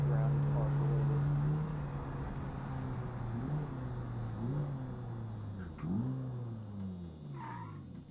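A VW Gol GT driving in BeamNG Drive, its engine droning steadily and rising and falling in pitch as it revs and shifts, heard under a man's speech.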